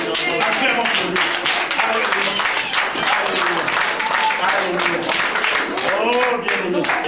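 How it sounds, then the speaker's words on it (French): A church congregation applauds and cheers at a French-language sermon, with dense sustained clapping and voices that keep going the whole time. "Acclamons pour lui."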